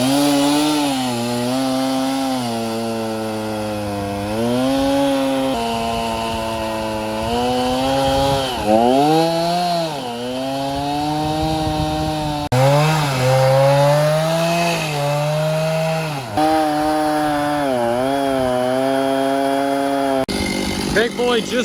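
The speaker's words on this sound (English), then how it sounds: "Our chainsaw blade was very dull." A chainsaw with a dull blade cuts up a tree felled by the December 2021 Kentucky tornado, its loud engine whining continuously and rising and falling in pitch as it revs and bogs through the wood.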